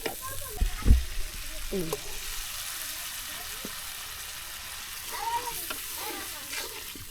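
Spice paste for a desi duck curry sautés in a pan with a light sizzle, broken by a few clanks and scraping stirs, while people talk nearby at times.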